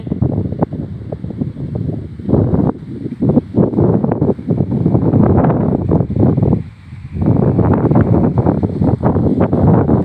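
Strong wind gusts through trees outdoors, roaring and buffeting loudly against the microphone with rustling leaves, dipping briefly before surging again.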